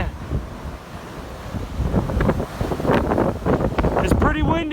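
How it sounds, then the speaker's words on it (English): Strong wind roars across a mountain trail, a steady blustery rush buffeting the microphone, with a person speaking over it toward the end. "It's pretty windy up here."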